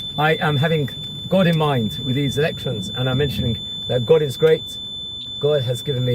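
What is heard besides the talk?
rental car's reversing warning beep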